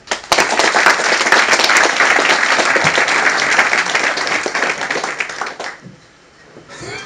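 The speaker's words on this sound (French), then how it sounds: "Je pense qu'on peut encore applaudir tous les présentateurs qui sont là" An audience at a French-language presentation session applauds the presenters, loud sustained clapping for several seconds that thins out and fades near the end.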